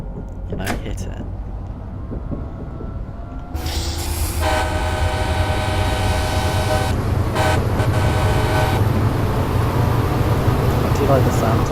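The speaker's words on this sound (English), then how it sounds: "look at that horn. That is what you call a horn." Train horn in Train Simulator 2014 on the Pacific Surfliner route, a loud sustained multi-tone blast that sounds from about the fourth second over steady engine and rail rumble, with someone talking throughout.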